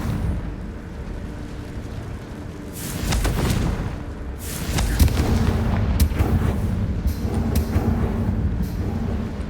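A Confringo fire spell goes off in Hogwarts Legacy: a loud burst of fiery explosions with rumbling, crackling blasts that keep booming for several seconds, with no voices.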